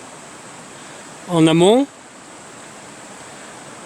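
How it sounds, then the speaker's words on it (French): River water rushes into a mill race at an old water intake, a steady broadband hiss of flowing water, briefly overlaid by someone speaking in French. "D'ailleurs, l'eau s'y engouffre."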